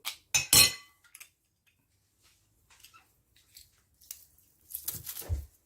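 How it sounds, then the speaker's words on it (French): Garlic cloves are pushed through a metal garlic press: a few sharp metallic clinks and clacks close up, quiet gaps between them, then a burst of squeezing and crunching near the end. "Je vais presser mon ail dans mon presse-ail."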